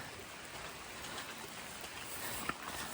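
Rain falls steadily at Sawdust Bay on Georgian Bay while canoes are loaded, a soft continuous patter on surfaces with one sharp tap near the end.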